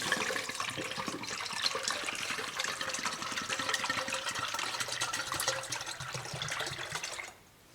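Brake fluid glugs and splashes steadily as it pours from a bottle into a Volvo XC90 reservoir, close and continuous, then stops abruptly near the end.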